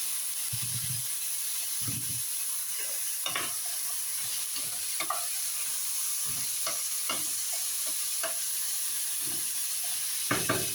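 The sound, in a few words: stir-frying string beans (sitaw) in a pan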